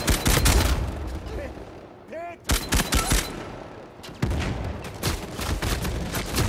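Rapid bursts of gunfire from Uncharted 4 multiplayer rattle close and loud in repeated volleys, with a player talking over the shooting.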